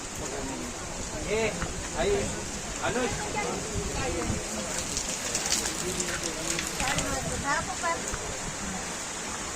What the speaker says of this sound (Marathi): पाऊस जाम आहे